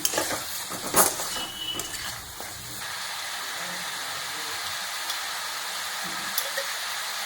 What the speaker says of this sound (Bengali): ধনে গুঁড়ো দিয়ে খুব ভালোভাবে নাড়াচাড়া করে নেব